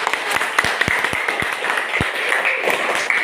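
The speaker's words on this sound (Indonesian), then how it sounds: "Ya, kita berikan aplaus." A group of students in a class gives a round of applause, a steady patter of many hands clapping nearby at moderate volume, with a few louder individual claps standing out.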